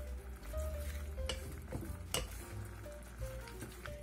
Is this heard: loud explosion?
no